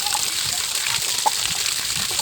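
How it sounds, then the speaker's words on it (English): Water gushes steadily out of a natural tree in Jamaica, a continuous close hiss and splash with small sloshing bursts and no pauses. "Look at the volume of water that come out of a natural tree."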